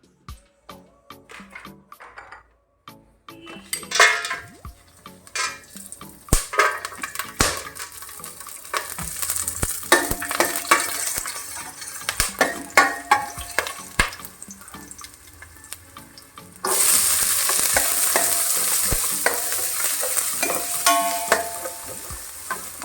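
Onion sautés in hot ghee for a Goan prawn pulao, with an irregular run of spoon scrapes and stirring knocks over a steady sizzle that grows louder and hissier toward the end.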